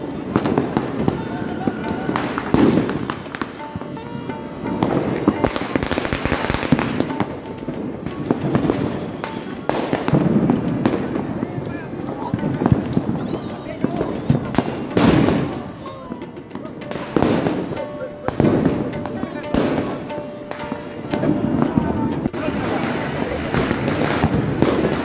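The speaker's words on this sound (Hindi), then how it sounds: "सभी ने पटाखे छोड़े और मैंने भी" Diwali firecrackers and fireworks going off nearby and around, repeated sharp bangs and crackling bursts scattered throughout, with people talking in between and over them.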